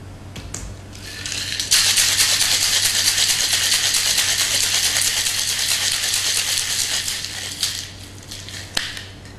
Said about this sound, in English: We then shake this with lots of ice.